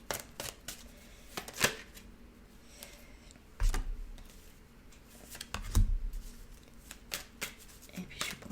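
Cards are shuffled for a tarot-style card reading, with repeated crisp riffling bursts and soft slaps, some sharp and loud, scattered through the clip while someone talks quietly.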